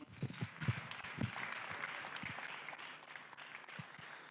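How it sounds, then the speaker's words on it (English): Audience clapping for a lecturer at a university public lecture, broad steady applause from a hall that carries on for several seconds and slowly thins out, with a few louder claps near the start. "can we give a resounding clap to Professor Moritala Sagagi"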